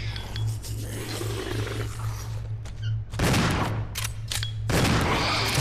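Shotgun blasts from the video game Resident Evil 0 during a fight with the Proto Tyrant: two loud, close booms a couple of seconds apart over a low steady hum, with quieter scrapes and clinks before them.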